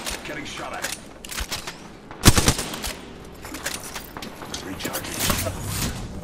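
Bursts of automatic gunfire from a shooter video game rattle in rapid volleys, with one sharp loud blast partway through. A player talks over the shooting.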